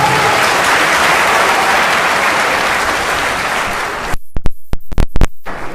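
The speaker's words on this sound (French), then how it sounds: "Applaudissez la sœur, s'il vous plaît." A crowd bursts into loud, sustained applause for a woman introduced as the first speaker, dense clapping for about four seconds that breaks off into a handful of separate, louder claps.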